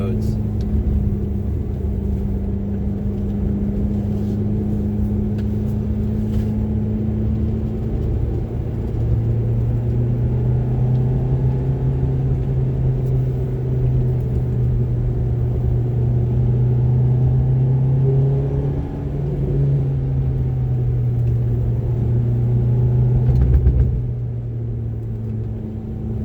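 Heard from the cabin, a 2006 Ferrari F430 Berlinetta drives winding back roads with a continuous engine hum that rises and falls in pitch with throttle and gear changes, a person speaking over it.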